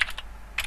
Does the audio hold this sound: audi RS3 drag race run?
no